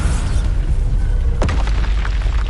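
A Bombarda spell blast in Hogwarts Legacy, one loud booming burst standing out from a dense, rumbling game soundscape, followed by crackling debris and residual noise.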